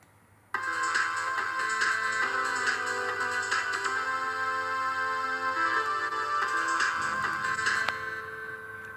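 A Roland D2 synthesizer holds a bright, sustained electronic tone with a steady ticking pulse. It plays alone for about seven seconds, then drops to a fainter tail.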